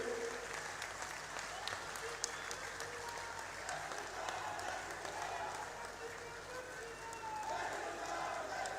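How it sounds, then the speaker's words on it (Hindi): An audience at a state-level Maharana Pratap Jayanti event applauds the Chief Minister, with sustained, distant clapping as a steady wash throughout and a voice faintly audible beneath it. "तालियां बजती रहनी चाहिए माननीय मुख्यमंत्री जी के लिए"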